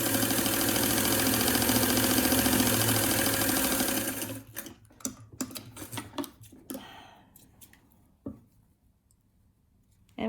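A sewing machine runs steadily as it stitches closed the opening of a fabric face mask, a loud close whirring that stops after about four seconds, followed by soft handling clicks and rustles.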